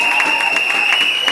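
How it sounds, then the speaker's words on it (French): A church congregation at a wedding blessing service claps and applauds steadily throughout, a dense, close wash of hand claps. "Bien aimé, nous acclamons pour papa Kabo."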